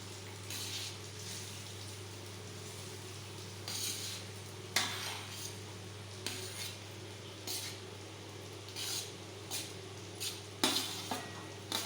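Rice is tipped into hot oil in a wok and stirred with a utensil: faint, intermittent scrapes and clinks with a soft sizzle, close by over a steady low hum.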